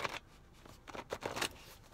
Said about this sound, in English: Okay, while I pre-shuffle,